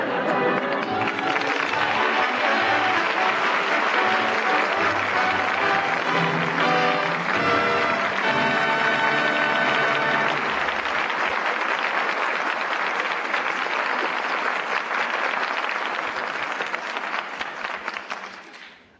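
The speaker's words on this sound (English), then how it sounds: "that well-deserved applause calls back our stars, Maureen O'Hara, Paul Douglas, and Betty Lyn" An audience bursts into loud, sustained applause at the end of a radio theatre play, carrying on steadily before tapering off at the end.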